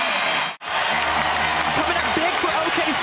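Crowd applauding and cheering at an Oklahoma City Thunder basketball game at Paycom Center, a dense wash of clapping and crowd noise with a broadcast commentator talking over it.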